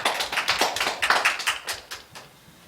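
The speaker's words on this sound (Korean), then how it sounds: "우리에게 은혜 주신 하나님께 영광의 박수 올려드리겠습니다." A church congregation claps after a prayer during a Sunday worship service. The claps are close and distinct, coming in a quick, uneven cluster that gradually fades away.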